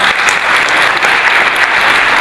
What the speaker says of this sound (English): give a round of applause to all the women who have worked as mentors